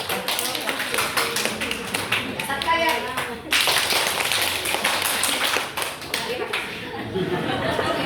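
Audience at a learning-community workshop giving a rhythmic group clap, brisk patterned clapping mixed with chatter and light laughter, with a brief break midway before it resumes.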